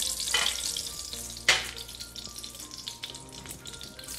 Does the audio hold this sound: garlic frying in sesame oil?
yes